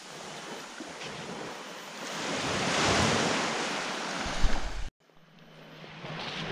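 Sea waves washing onto a quiet white-sand beach with clear water at Port Dickson, a steady roaring wash that swells and then cuts off abruptly, followed by softer surf with wind buffeting the microphone.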